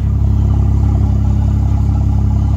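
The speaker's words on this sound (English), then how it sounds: "Let me let you take a listen to the exhaust." A 2016 Mercedes C450 AMG exhaust idles loud and close in a deep, steady rumble with a slight pulsing burble, heard alone with no talking.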